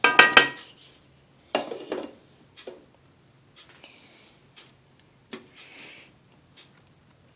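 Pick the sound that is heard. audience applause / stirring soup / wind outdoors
stirring soup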